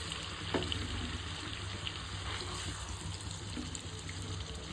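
Spice mix frying in melted butter in a pan gives a steady, dense sizzle with a faint watery crackle running evenly throughout, close and moderately loud, with no voices.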